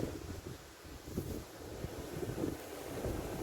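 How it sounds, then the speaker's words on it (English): Steady sea wind on the Holderness coast, UK, buffets the microphone with a low rumbling roar, gusting unevenly throughout with no other clear sounds. "There's a lot of sea breeze, quite a bit of wind blowing southeast"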